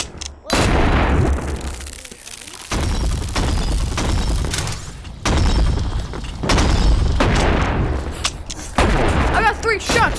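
Shotgun blasts in the VR game Animal Company, heard as several loud booming shots spaced a few seconds apart, mixed with game noise and a player talking.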